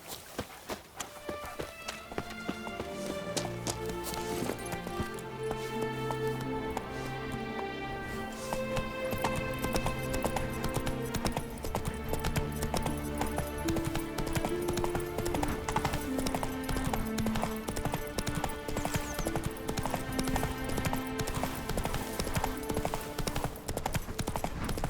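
Hooves of Roach, the horse in the video game The Witcher 3, clip-clopping steadily beneath a loud, dense musical score that runs throughout.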